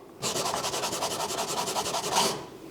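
Steady rhythmic rasping as a hand tool carves wood from a guitar neck down to a pencil line, repeated close strokes running continuously with no talking.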